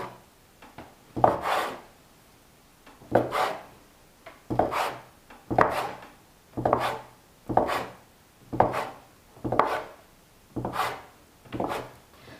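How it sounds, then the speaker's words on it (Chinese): A knife cuts a long rope of dough into equal pieces for steamed flower rolls. About ten soft, evenly spaced chopping thuds land on the board with short quiet gaps between them. "直接搓成长条状， 切成均等大小的面剂"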